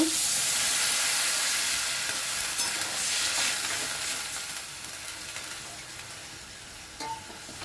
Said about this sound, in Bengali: এখন আমি এতে জল দিয়ে দেব